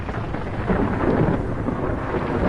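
A short stretch of a video game storm: thick, hissing rain with a low thunder rumble swelling in the middle, steady and loud, no speech.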